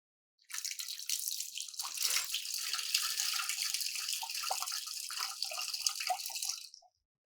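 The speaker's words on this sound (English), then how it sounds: "When I poured this water onto this model turbine, what happened? Turbine started to rotate." Water pours steadily onto a small model turbine in a classroom demonstration for about six seconds. The hissing, splashing flow stays fairly soft and even, then cuts off, with no talk.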